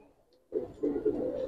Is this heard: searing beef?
no